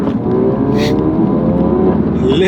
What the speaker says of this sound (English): So you can really hear those turbos spooling around, which I think is really cool.